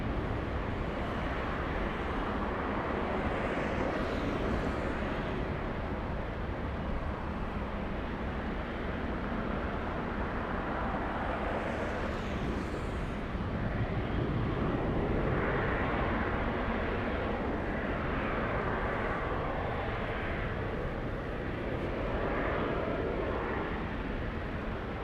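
A Delta airliner takes off from runway 24 left at LAX, a steady broad jet roar holding loud and continuous throughout with slight swells, no voices over it.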